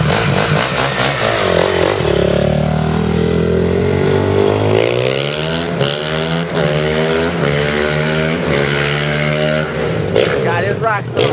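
A wheelie motorcycle running on race gas fires up and revs hard, its loud, close engine climbing and falling through repeated rising and dropping pitch sweeps. Steady engine roar fills the whole stretch, with voices faintly mixed in.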